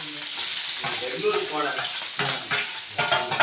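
Chopped onions and green chillies with mustard seeds frying in hot oil for a fish kuzhambu, a steady close sizzle with stirring scrapes and a few louder spatula strokes near the end.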